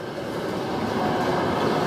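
Roller coaster train running at Busch Gardens Tampa, a loud continuous rushing rumble with steady track roar throughout, close by and without speech.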